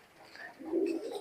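Pakistani high flyer pigeons in a loft give a soft, low coo that swells midway and carries on warmly to the end, close by and alone.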